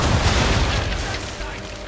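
Heavy cannon fire in Assassin's Creed III's naval combat, with powder barrels exploding in a loud booming burst that rumbles and slowly fades.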